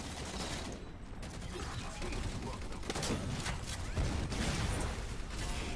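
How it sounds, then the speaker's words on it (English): Turret gunfire in Halo 4 multiplayer, a dense continuous rattle of rapid shots with mechanical clatter, loud and sustained throughout, with a voice talking over it. "Stop shooting me with a goddamn turret."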